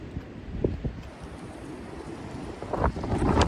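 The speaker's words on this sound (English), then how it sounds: "Again, very windy." Strong wind roars and buffets the microphone continuously at Ashtabula Harbor on Lake Erie, Ohio, with gusting rumble and water sounds beneath, growing louder toward the end.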